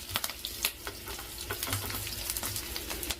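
Dried red chillies crackle as they fry in hot oil for an endu mirchi dal, giving a busy close sizzle with sharp pops and snaps scattered throughout.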